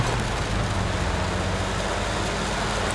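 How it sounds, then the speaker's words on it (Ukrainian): A vehicle engine drones steadily in the Battlefield 1 video game, a loud, constant low rumble with broadband road noise that holds throughout with no pauses and no talking. "Блін, як ця машина шумить."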